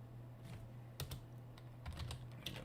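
Quiet clicking of keys on a computer keyboard, a few short bursts of taps close by with a low steady hum beneath and no talking.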